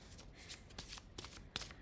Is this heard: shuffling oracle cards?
yes